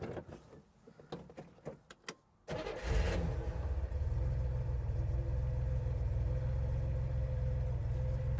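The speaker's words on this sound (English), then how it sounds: "So I am going to quickly start up the car." Starter cranking on a 1964 Chevrolet Corvair after several sharp clicks and clunks, then its engine catches and settles into a steady, even idle, close and clear with no talk.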